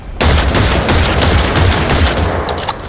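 A pistol in the Fortnite video game fires a full magazine, a loud, close burst of rapid shots in a steady rhythm, with a brief gap before the final few rounds.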